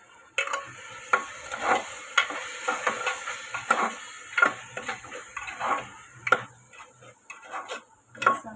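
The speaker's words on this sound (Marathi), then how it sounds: "हे आता आपण सर्व हलवून घ्यायचं व्यवस्थित।" A spoon scrapes and taps rhythmically in a pressure cooker, stirring chicken biryani masala of onion, tomato and turmeric, with soft sizzling from the oil underneath and regular knocks against the pot roughly every second.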